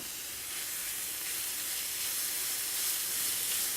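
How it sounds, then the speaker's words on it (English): Steak with peppers and onions frying in a pan, giving a steady, even hiss and sizzle that swells slightly and runs without a break, close by and alone. "throw this in with the peppers and onions, get that cooked"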